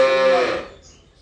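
A dairy cow moos once in a village yard, a short loud harmonic call that trails off within about half a second into quiet background.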